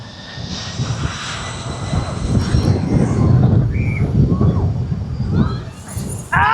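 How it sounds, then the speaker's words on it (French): A large airplane takes off over Maho Beach on Saint-Martin, its jet engine roar swelling loud and broad before easing, with beachgoers' voices faintly mixed in. "il y a un avion qui est assez gros qui s'apprête à décoller"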